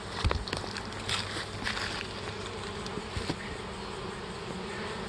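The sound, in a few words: honey bees buzzing around hive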